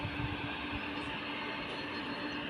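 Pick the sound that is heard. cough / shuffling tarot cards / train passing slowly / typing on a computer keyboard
train passing slowly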